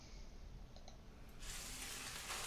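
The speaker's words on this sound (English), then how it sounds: "we got some oiling sound, some oil sizzling sounds." An oil sizzling sound effect for a cooking horror game: a steady broadband hiss sweeps in partway through and keeps going, loud and close, with faint clicks before it.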